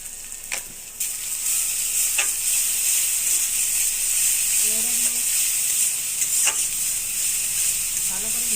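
Katla fish frying in a pan gives a constant bright sizzle with a few sharp ticks and spatters, close and fairly loud and steady throughout.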